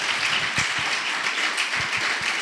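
A congregation at a youth conference claps hands in a dense, steady patter, with a few sharper, louder claps standing out close by.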